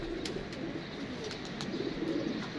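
Pigeons coo softly in a steady, repeating low murmur against a quiet outdoor background.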